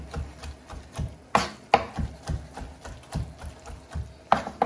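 A knife chops finely through leftover cooked lamb shoulder meat on a board, sharp uneven thuds repeating close up at a quick irregular pace with no talking.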